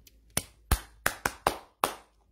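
Six separate, sharp hand claps ring out close by in an uneven rhythm against near silence, each one decaying quickly.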